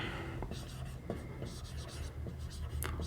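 Chalk or pen writing on a board during a Sanskrit grammar lesson, a run of faint scratchy strokes in short bursts, quiet and under a soft room hiss with a little murmured speech.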